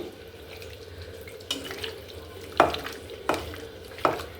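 Chicken is mixed by hand with turmeric, salt and yogurt for a cooker biryani, giving wet squelching and slapping stirs at irregular intervals, close and moderately loud with no talk.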